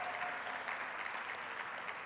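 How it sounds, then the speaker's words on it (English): Audience applause for high school and middle school students at a government youth panel event, a steady wash of clapping that stays fairly faint and distant throughout. "can we just give a round of applause for the high school students and middle school students who are joining us today?"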